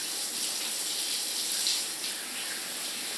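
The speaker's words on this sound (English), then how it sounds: "Wash my hands a little bit." Steady running water from a tap as hands are washed after handling greasy PC parts during a computer build, a constant close splashing hiss with no talk.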